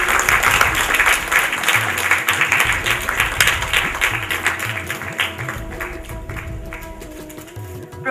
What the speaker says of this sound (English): So we have a huge round of applause